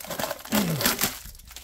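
Adhesive tape peeled off an Alaris PC 8015 medical infusion pump during a teardown, a short crinkling, tearing rip close up with a rising squeal partway through, heard alone.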